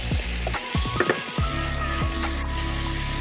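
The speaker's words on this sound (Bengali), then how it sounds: "চিকেনটা একটু ফ্রাই করে দেবো।" Boneless chicken sizzling in a hot pan with strips of capsicum, a steady close frying hiss with a few scraping stirs of a utensil, no talk.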